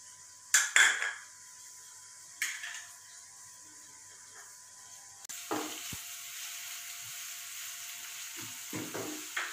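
Onions frying in a pan for an egg curry, a quiet continuous sizzle broken by a few sharp metallic clinks and scrapes of a spatula against the pan.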